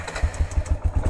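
A 2001 Arctic Cat 400 4x4 ATV engine runs close by with a quick, even throbbing beat, loud and alone for a brief moment.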